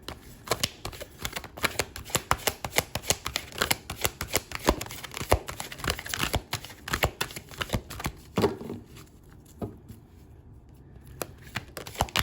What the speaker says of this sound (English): These are always so hard for me to shuffle.